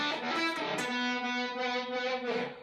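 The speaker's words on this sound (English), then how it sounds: "I want to have a distortion or a fuzz here, and I want to use some of my reverb" Electric guitar played through a distortion or fuzz pedal with reverb on a MIDI-controlled loop switchboard, sustained saturated chords ringing with a smooth reverb tail, loud and alone with no talking.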